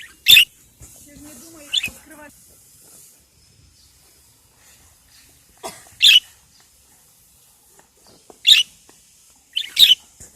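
Pet parrots taken outdoors give sharp, loud chirps and squawks close by, in short bursts separated by long quiet gaps.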